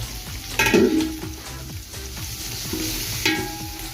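Garlic, chilli and onion frying in a pan while being stirred, with a constant close sizzle and scraping spoon strokes, the loudest ones near the start and again toward the end.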